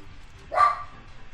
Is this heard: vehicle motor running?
no